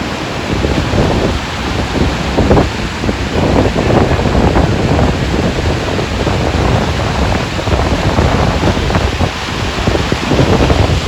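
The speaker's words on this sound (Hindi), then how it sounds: "एक ब्यूटीफुल झरना जो कि रास्ते में है" Steady broadband rush of a roadside waterfall beside a mountain road between Uttarkashi and Gangotri in the Himalayas, loud and continuous with gusty wind-like texture and no talking.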